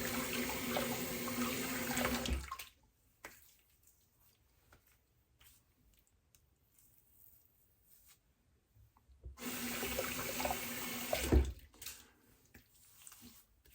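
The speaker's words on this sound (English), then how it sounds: "Just with cold water rinse." Cold tap water runs steadily into a sink for a shaving rinse, stops for several seconds of near quiet, then gushes again, close by.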